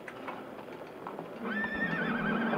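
A horse in a video game clip-clops softly at first, then lets out a loud, drawn-out neigh near the end, close and clear with no talking.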